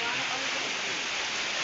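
Waterfall at the foot of Kalapata hill dropping from about 200 feet, a constant broadband roar of falling water, loud and unbroken.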